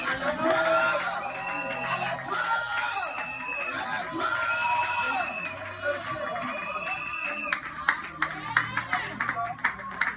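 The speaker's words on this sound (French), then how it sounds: "Est-ce que tu peux pousser les cris de joie à la gloire?" A church congregation cheers, shouts and claps for joy during a French-language worship service, a loud sustained crowd roar with whoops and yells, ending in sharper bursts of applause.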